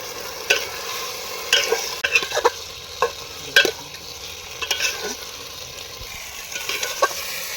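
Goat fat frying in a pan of sautéed spice paste while being stirred, with scattered scraping clicks and soft sizzling bursts at close range and no talk.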